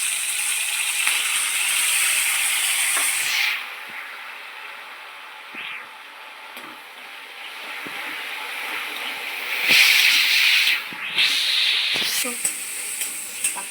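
Tomatoes sizzle as they fry in a pan of hot oil, a loud hissing crackle that fades after a few seconds, returns in bursts as they are stirred, and is broken by scraping and clattering of the spoon.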